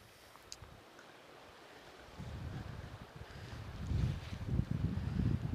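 Waves wash onto a beach below a cliff, a low rumbling surge that builds and swells toward the end, with some wind noise over the microphone.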